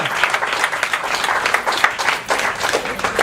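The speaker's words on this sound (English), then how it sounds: "Everybody give her a big round of applause." An audience claps steadily at a health workshop, dense applause sustained throughout with no voices over it.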